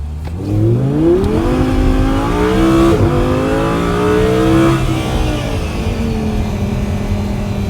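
A 2014 Audi R8 Spyder engine revs hard and accelerates with some wheel spin, pitch climbing through a gear then dropping and rising again, loud and close throughout with no talking.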